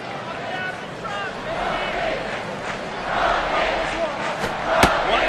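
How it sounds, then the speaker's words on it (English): A baseball stadium crowd cheers at a White Sox vs. Rays game, a continuous roar that swells toward the end with a sharp bang near the close, under a commentator talking. "the crowd electric right now, excited on their feet"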